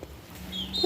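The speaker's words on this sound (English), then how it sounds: "This one is a little rooster," A young Buff Orpington rooster clucks softly close by, a few short low calls over faint background noise.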